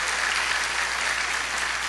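An audience applauds during a TV program, a dense, steady wash of many hands clapping at close range, sustained evenly from start to finish with no voices over it.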